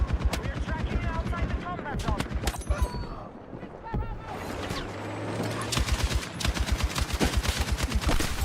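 An M60 light machine gun fires in Battlefield 6 in rapid, sharp bursts of rhythmic shots, loud and close, broken by a short pause while a player talks over the gunfire.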